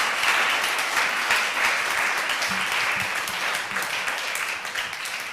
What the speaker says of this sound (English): big applause for Kenza